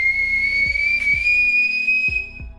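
A piercing, very loud finger whistle holds one high sustained tone that rises slightly in pitch for about two seconds, then cuts off, with soft low thumps underneath.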